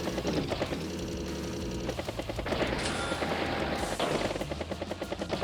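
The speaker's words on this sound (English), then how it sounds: "Anti-air takes a battlecopter." Game sound effects from Advance Wars: an anti-air unit fires rapid bursts at a battlecopter, dense rattling gunfire mixed with a whirring rotor-like drone, steady and busy throughout.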